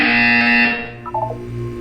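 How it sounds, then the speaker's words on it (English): A buzzer from the Portal video game sounds once, a loud sustained harsh electronic tone lasting under a second, followed by quieter game noise. "You will hear a buzzer. When you hear the buzzer, look up at the ceiling."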